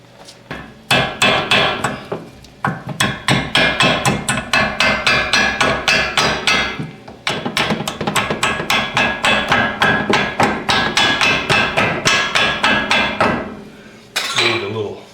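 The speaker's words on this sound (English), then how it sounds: "And now I just need my ball peen" Ball peen hammer tapping repeatedly on brake parts of a Mercedes 300D, a long run of sharp metallic strikes in steady rapid bursts, close and loud, with a short pause midway and a final few blows.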